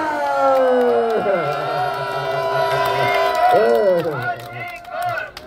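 A crowd at a political rally cheers and whoops loudly with sustained, wavering voiced shouts rising and falling together, near and full, with a few claps and some calls mixed in.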